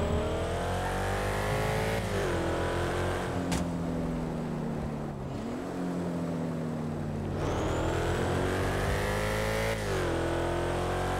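Car engine in GTA roleplay, revving hard with repeated rising and falling pitch sweeps as gears shift, loud and close throughout with no talk.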